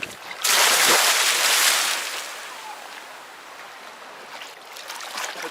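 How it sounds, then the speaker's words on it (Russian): Water splashing while someone bathes in the sea, a loud, close burst of splashing that fades into a softer, steady wash of moving water. "Это купание в море."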